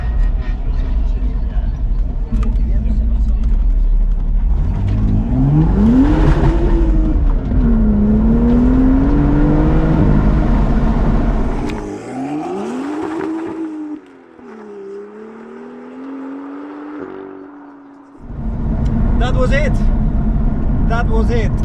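A sports car at a Sport Cars in the Park show pulls away, its engine revving and rising in pitch through the gears before fading, then a loud burst of noise returns near the end.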